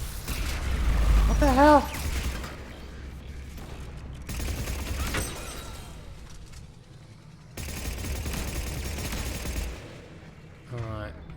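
Weapons firing in the sci-fi shooter Mass Effect 3, sustained bursts of gunfire and booms running through the whole stretch under game music, with a voice calling out over the battle.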